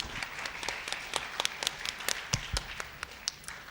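An audience at a middle-school debate contest final applauds the student debaters with a sustained burst of hand clapping, with individual claps standing out.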